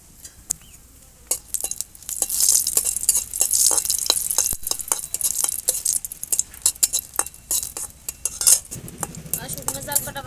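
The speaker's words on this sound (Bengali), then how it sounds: "এর আমি শুকনো জাল কটা দিয়ে দেবো।" Dried red chillies frying in oil in a kadai: a sizzle rises and falls under frequent sharp clinks and scrapes of a metal spatula against the pan, fairly close.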